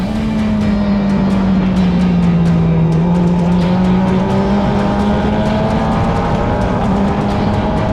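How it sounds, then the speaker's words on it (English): A formula race car brakes late into a corner and downshifts twice, the loud engine drone dipping and rising steadily with sharp gearshift ticks throughout, heard close from the cockpit. "Doing this corner flat, then braking late. 2 downshifts, carrying as much speed as possible."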